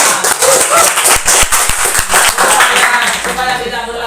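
Hands clap in a classroom during a physics lesson on pulleys, a rhythmic run of sharp, close claps with background voices, mostly in the middle stretch.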